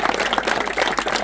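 Brief, dense burst of audience clapping for children receiving medals at a youth award ceremony, loud and continuous throughout.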